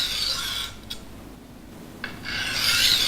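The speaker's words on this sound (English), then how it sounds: "Sharpen the edge on this stone until it is sharp." A knife edge rubbed on a coarse Norton Crystolon silicon carbide sharpening stone, giving close, steady gritty rasping strokes that pause briefly in the middle, with no talk.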